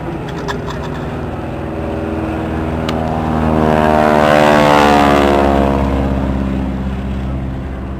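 Breitling Wingwalkers propeller aircraft fly past at an airshow, the engine drone swelling loud as they pass overhead and then fading with a falling pitch, heard alone and continuous.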